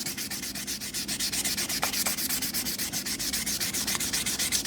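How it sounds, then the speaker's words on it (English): Sandpaper rubbing over the plastic of a vintage Telstar telephone in fast, even back-and-forth strokes, a close, steady rhythmic scratching with no talking. "if I was using some more coarse sandpaper, I would be probably through it by now"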